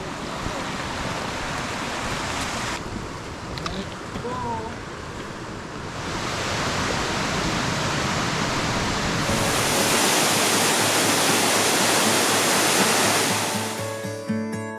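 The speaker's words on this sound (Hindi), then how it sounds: "तो ये था हमारा आज का डेस्टिनेशन, छत्तीसगढ़ के सक्ती का सोनगुड़ा वाटरफॉल।" Songurha waterfall in the hills near Sakti, Chhattisgarh, roars as a steady broadband rush of falling water, swelling louder over the second half.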